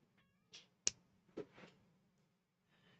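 A pet cat indoors gives several faint, short meows and squeaks in scattered bursts over a low steady hum, with no one speaking.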